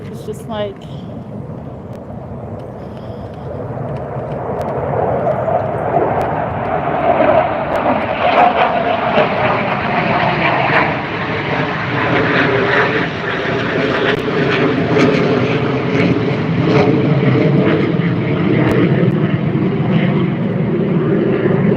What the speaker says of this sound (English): dang, that plane was so loud, couldn't hear anything, hear myself think or talk